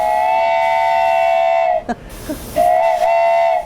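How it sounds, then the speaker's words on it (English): A shrill toy train whistle blows a steady chord-like tone, breaks off briefly with a breathy puff, then sounds again, loud and close. "This is the finished train whistle with a 2-color pad print"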